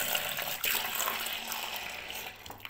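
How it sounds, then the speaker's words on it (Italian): Water splashes from a container into a pan of vegetables being cooked for frittella, a short, close gushing pour that fades out toward the end. "aggiungo un pochino d'acqua alle verdure"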